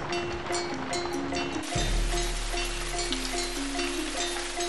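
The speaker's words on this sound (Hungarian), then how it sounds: "Esik. Akkor ne késlekedjünk." Steady rain falls outdoors, a dense continuous hiss of drops, with a low rumbling drone that swells partway through and faint tonal hums beneath; no talking.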